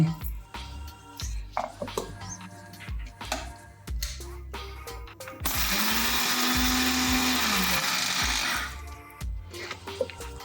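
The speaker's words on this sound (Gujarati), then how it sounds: "એ ખાંડને આ મિક્સર જારમાં હું એડ કરું છું અને આપણે એને એક વખત આને પીસી લેવાની છે" A mixer grinder whirs loudly for about three seconds, grinding sugar, in the middle of sparse handling noises and clatter.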